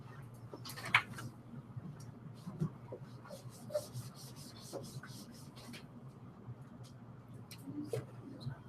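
A pencil drawing a straight line across a piece of card makes faint, scratchy rubbing strokes, with a few soft taps of handling in a quiet room and no one talking.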